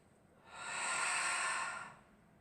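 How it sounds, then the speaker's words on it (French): Slow, soft breath drawn in and released during a Pilates mat exercise, a single airy swell rising and fading over about a second and a half, quiet and alone. "Respiration thoracique."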